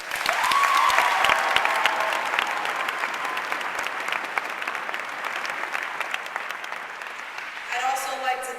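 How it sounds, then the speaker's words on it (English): A large conference crowd at a national volunteering and service gathering applauds loudly and steadily, the clapping thinning toward the end as a voice starts speaking over it. "Let's give Laura a round of applause"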